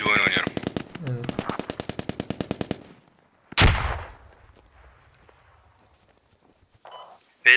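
Gunfire in the tactical shooter game Squad: rapid bursts of automatic fire, then a single heavy blast with a fading tail, followed by quiet and a brief sharp sound at the end.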